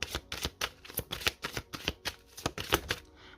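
Tarot cards are shuffled and drawn by hand at close range, giving quiet rapid papery riffles and flicks in quick, uneven bursts with no speech.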